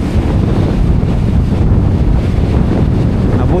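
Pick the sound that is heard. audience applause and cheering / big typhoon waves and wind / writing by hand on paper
big typhoon waves and wind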